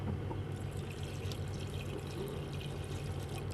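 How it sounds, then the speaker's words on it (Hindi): Water pours steadily into a cooking pot holding raw mutton for aloo gosht, a continuous close splashing gush with no talk. "अभी ये पानी डालेंगे।"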